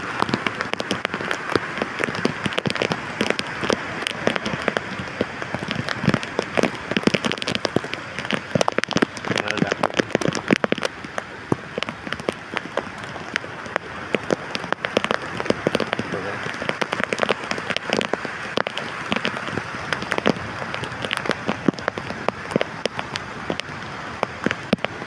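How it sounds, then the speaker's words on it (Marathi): First monsoon downpour lashes the beach at Kalvi Bandar, Vengurla, in Konkan: a loud, unbroken roar of rain with crackling drop hits sustained throughout, alone without speech. "इथे जोरात पाऊस चालू झालेला आहे"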